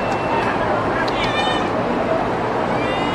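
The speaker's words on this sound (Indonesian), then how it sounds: "Ini kucing jalanan semua." Street cats in Mecca meow in a few short, close cries, mixed in with people talking and steady background noise.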